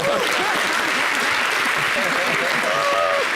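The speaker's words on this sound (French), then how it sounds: "Applaudissez cette femme." Audience applause for a woman at a French-language event: a dense, steady wash of clapping fills the whole stretch at close range, with a few voices and whoops rising through it.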